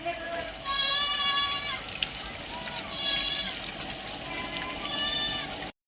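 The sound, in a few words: goats bleating on a farm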